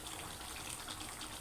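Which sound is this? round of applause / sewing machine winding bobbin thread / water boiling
water boiling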